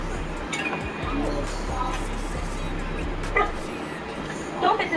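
A dog barks in short yips and whimpers amid a noisy room with people talking in the background, the yelps rising sharply near the end.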